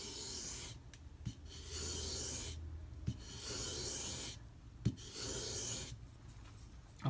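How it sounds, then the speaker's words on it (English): Knife blade (Emerson A100) drawn flat and backward across a well-used, dirty sheet of sandpaper: several steady rasping strokes, each about a second long and separated by brief pauses and small clicks as the blade is lifted, close and clear with no talk. "All I'm going to do is lay the knife flat and pull backwards."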